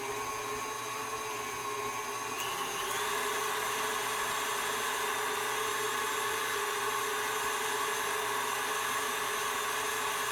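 An electric mixer beats lime jello with cream cheese, a steady motor whir that holds even and shifts slightly in pitch partway through, close and continuous with no talking.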